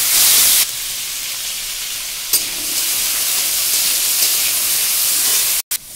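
Diced food with salt, cumin and other seeds fries in hot oil, giving a loud, steady hiss close by. A sharp burst opens it and a brief cut comes near the end.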